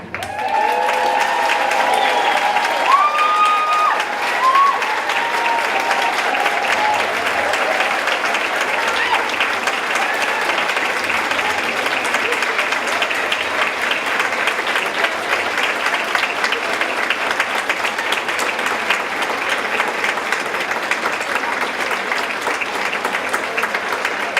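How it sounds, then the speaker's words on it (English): Banquet crowd at the Inspiring Women of Huron 2019 event applauds honorees standing at their tables, a broad sustained ovation that stays loud and even throughout, with some voices and a few cheers heard in the first seconds. "we can give you a round of applause"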